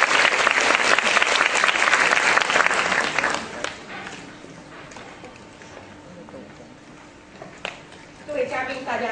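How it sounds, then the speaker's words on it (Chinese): Audience applause for the head of a Taiwanese women journalists' association at a University of Macau event, a dense loud burst of clapping that fades after a few seconds into quieter room sound, with a few scattered claps near the end. "掌声有请顾理事长"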